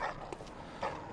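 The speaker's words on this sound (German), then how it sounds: "Ich höre Hunde." Dogs barking in the dark fantasy game Bloodborne, two short yips or barks spaced apart, fairly distant and soft against a low ambient game background.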